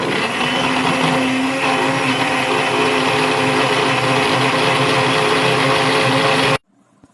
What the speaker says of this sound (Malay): Tambahkan 2 cawan air dan kisarkan.